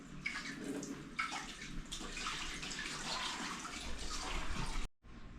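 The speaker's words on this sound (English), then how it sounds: "we will only fill our tank to above the pump" Seawater pours steadily into a seaweed growing tank with a continuous close splashing rush, then cuts off abruptly near the end.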